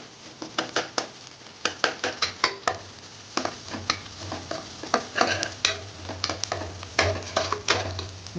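Ridge gourd kadaisal is stirred in a cooking pan, a steady run of quick scraping and clacking spoon strokes over a faint sizzle, close and without talk.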